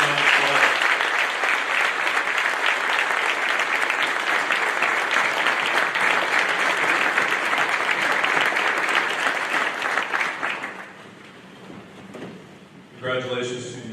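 Sustained applause from a school audience honoring student award winners at a high school awards night, steady and loud for about ten seconds before fading, followed by a voice starting to speak.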